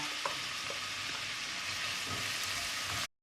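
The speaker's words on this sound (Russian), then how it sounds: "Теперь на этом же масле, где жарилось мясо, обжариваем лук до золотистого цвета." Onion frying in oil left over from browning meat, a steady close sizzle with a few faint stirring clicks, continuous for about three seconds before cutting off.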